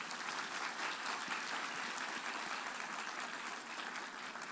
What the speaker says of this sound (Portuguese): Uma salva de palmas para eles.